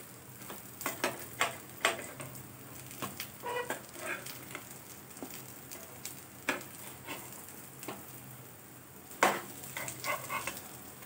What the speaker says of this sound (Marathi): छान तांबूस रंग येईपर्यंत आपण परतून घेऊया।